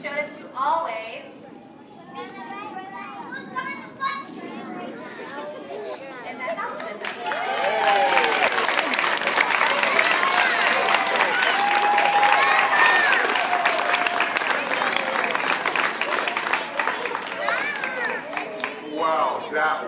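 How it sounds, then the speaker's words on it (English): An audience at a school flag assembly breaks into applause after a quieter stretch of voices, the clapping swelling into a loud, dense, sustained wash with scattered cheers and chatter mixed in. "I think they deserve another round of applause"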